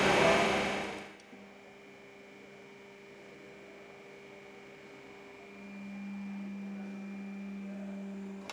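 An iron worker machine shearing steel angle hums steadily after a loud opening burst, its motor drone rising in pitch and strength near the end, heard close with no talk.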